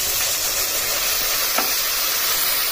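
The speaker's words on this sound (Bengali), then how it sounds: "এখানে আমি অল্প একটু জল দিচ্ছি মশলাটা কষানোর জন্য।" Spice paste for coriander-chili bhetki fish sizzling steadily in a pan after a splash of water, a dense continuous hiss close by with a brief stir midway.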